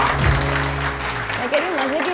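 Studio audience applause on a TV morning show, a broad clatter of clapping that fills the room with music and a voice mixed in, while a presenter starts talking over it toward the end.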